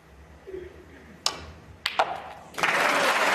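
Applause breaks out from a snooker crowd at the Players Championship after a pot, rising into a steady, fairly loud wash of clapping that follows a few sharp clicks and taps.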